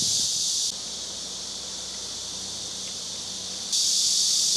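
Loud, steady high-pitched buzzing of cicadas fills the air in a park in Shanghai, dipping somewhat quieter in the middle before surging back at full strength.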